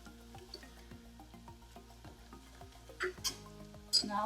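Quiet sizzling of potato and eggplant frying with salt and spices, punctuated by regular spoon strokes stirring the pan and a couple of sharper scrapes toward the end.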